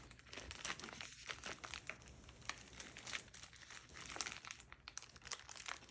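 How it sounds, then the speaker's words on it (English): Sterile IV start kit package crinkling and tearing open, close and continuous, crisp plastic and paper crackles running steadily for several seconds. "I'm gonna open up my IV start kit"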